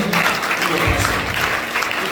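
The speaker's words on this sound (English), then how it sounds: "Give Jesus a clap" A church congregation at a conference applauds together, a dense burst of clapping that fills the room and holds steady throughout.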